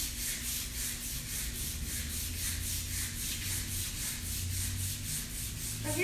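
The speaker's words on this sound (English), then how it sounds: "I'm really just kind of getting the fuzz off, but I'm not taking off that much paint. I'm really just smoothing it out." A painted furniture surface gets a quick hand sanding, repeated rhythmic back-and-forth rubbing strokes close by, steady and soft with no voices.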